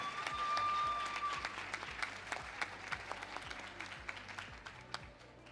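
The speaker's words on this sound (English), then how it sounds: "Can we give a round of applause, please?" An audience at a national ICT summit applauds as a representative walks to the stage, sustained crowd clapping that swells early and then continues at a steady level, with almost no talking.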